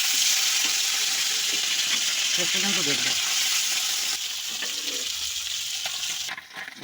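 Pieces of lata fish frying in hot oil in a home kitchen for a pumpkin and raw tamarind stew, giving a loud, steady, close sizzle that dips slightly near the end while someone talks over it.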